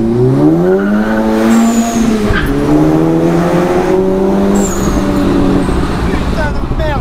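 A tuned Seat Ibiza Cupra at Stage 2+ accelerates hard, its engine note climbing steadily through the gears with a brief dip at a shift, loud and close, while people talk over it.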